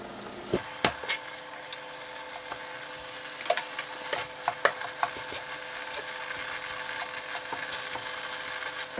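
Ground meat browns in a pan with a soft, steady sizzle, broken by scattered scrapes and clicks as it is stirred and flipped, fairly quiet and close with no talking.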